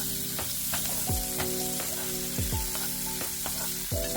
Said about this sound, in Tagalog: Prituhin na po natin yung ating mushroom.